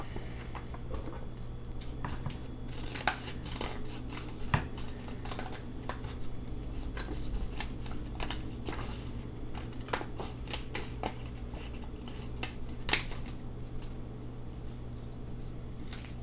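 Scissors snip through old book pages being cut into paper magnolia petals for a wreath, giving a steady run of crisp, close cuts and light paper rustling with no talking.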